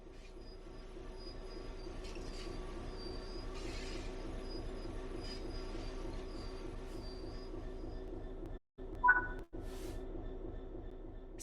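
A train rumbles along steadily with faint wheel squeal and clicking, briefly cutting out near the end.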